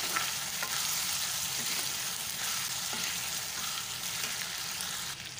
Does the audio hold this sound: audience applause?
no